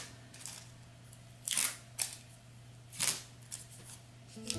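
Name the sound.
removing tape from stitched fabric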